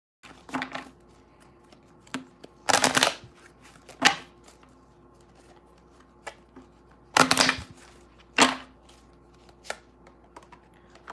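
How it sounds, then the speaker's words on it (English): Angel cards are shuffled and pulled at a tarot reading, heard as a few short, close papery riffles and flicks separated by quiet pauses, fairly soft with no talking. "I want to pull some angel cards here"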